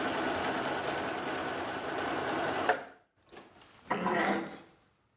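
Sewing machine zigzag stitching over a flattened seam allowance under the presser foot: a fast, continuous whirring run that stops abruptly, followed by two shorter bursts of stitching.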